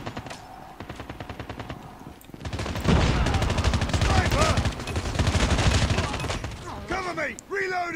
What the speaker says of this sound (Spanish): justo cuando me están tirando tiros